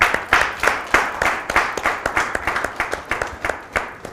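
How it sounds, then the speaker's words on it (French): Studio audience applauding on a Beninese television talk show, with distinct individual claps forming a loose, fairly steady rhythm that rises and falls over four seconds, close and moderately loud, with no talking. "On applaudit encore."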